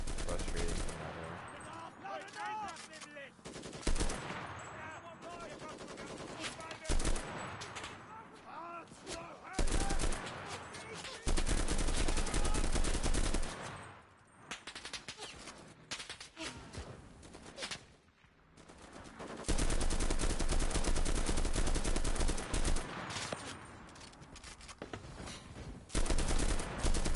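Sustained bursts of MG15 machine gun fire in the World War II shooter game Enlisted, set in Berlin, loud rapid rattling volleys with brief pauses, mixed with other battle gunfire and occasional voices.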